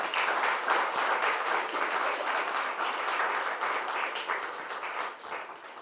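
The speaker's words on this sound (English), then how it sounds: "Please just give them another round of applause." Sustained applause from an audience honoring speakers at an African Caribbean women's event in Jamaica, a dense steady wash of many hands clapping that stays loud throughout and eases slightly near the end.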